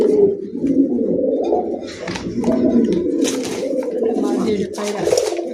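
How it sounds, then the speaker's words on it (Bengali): Mati breed pigeons coo in a steady, continuous low murmur close by, with wing flutters and a person talking over them. "মাটি এটা পায়রা"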